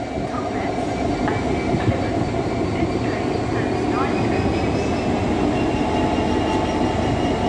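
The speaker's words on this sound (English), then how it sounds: "Echo 15 GB rail freight service from Miller Hill to Doncaster." GB Railfreight freight train hauled by two class 66 diesel locomotives passing through York, a steady loud rumble of engines and rolling wagons with faint clickety-clack throughout, close and continuous.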